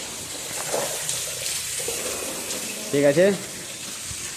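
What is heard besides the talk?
water splashed onto a wall before plastering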